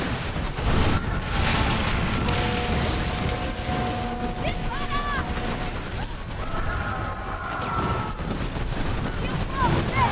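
Explosions and booming cannon-like blasts during a pirate naval battle in the video game Skull and Bones, rumbling continuously at moderate loudness under a dense game soundtrack with voices talking over it.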